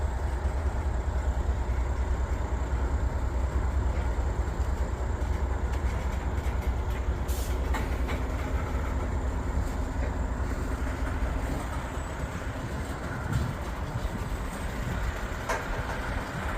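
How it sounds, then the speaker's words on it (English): A long freight train rolls past at close range, a steady dense rumble of wheels and cars clattering over the rails that continues unbroken for the whole stretch, with no talking. "This is a long train."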